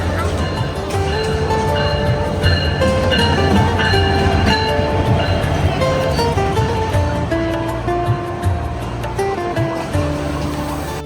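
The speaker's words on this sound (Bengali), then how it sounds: "সময় মতোই আমাদের ট্রেনটি পৌঁছে গেছে আমাদের প্ল্যাটফর্মে" A train pulls into a station platform in Dhaka, its steady rumble and wheel noise running the whole time with squealing tones on top, while people talk nearby.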